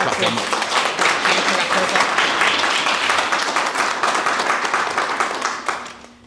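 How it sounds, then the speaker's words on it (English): An audience at The Future Is Ours Symposium 2025 claps warmly in a hall. Dense, close applause runs loud and steady for about six seconds, then thins and fades out at the very end. "I'm literally going to make you clap again."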